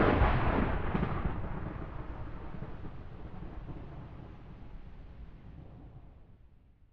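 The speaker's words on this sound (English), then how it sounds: "Very, very apropos with the thunderstorm going on in the background." Thunderstorm thunder rolling in the background, a single deep rumble that begins with a burst and then slowly fades over several seconds, distant and fairly faint, with no talking.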